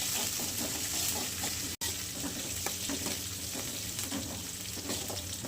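Green chillies hissing into hot oil in a pan, a steady dense sizzle with faint stirring clatter, broken by one brief cut near the start and then continuing close and loud.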